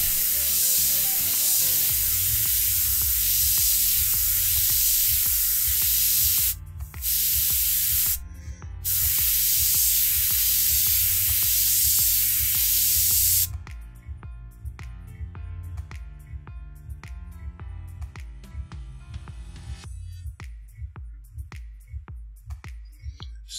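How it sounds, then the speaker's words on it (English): An airbrush sprays paint onto a model canal boat in a steady loud hiss, broken by two short pauses, then giving way to quieter intermittent bursts with faint background tones. "one of the things I'm doing is holding my airbrush at an angle here"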